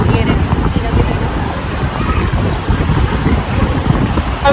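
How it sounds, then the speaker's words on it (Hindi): Strong wind at a beach in Texas buffets the microphone in a loud, continuous, gusty roar. "हवा बहुत अच्छी चल रही है, इसलिए मैंने ये नेचुरल साउंड में भी रखा है"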